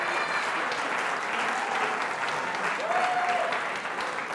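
Sustained audience applause for Gerhard Eckelberger at a publishing gathering, a continuous even wash of many hands clapping with faint voices mixed in.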